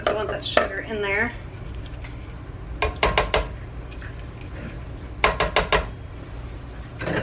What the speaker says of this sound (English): I'm going to pour that in here. I do want to scrape out the sugar from the bottom though